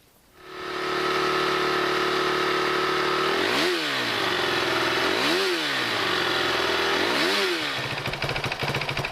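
Motorcycle engine fitted with a Rekluse EXP 3.0 clutch, running in first gear: a loud steady idle broken by three sharp revs that rise and fall, each blip spaced a couple of seconds apart, close to the microphone.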